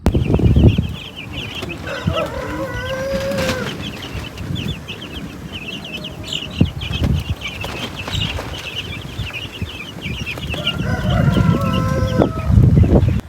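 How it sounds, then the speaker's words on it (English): Backyard chickens, including a hen with young chicks, cluck and chatter close by. A few louder drawn-out calls break through the busy, overlapping farmyard noise. "she did a good job last night taking care of those baby chicks"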